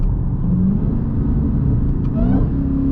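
Dodge Challenger SRT Demon engine on a drive in full manual mode, rumbling deep and loud close by as it revs through kicked-down gear shifts, with a brief rise in pitch near the end.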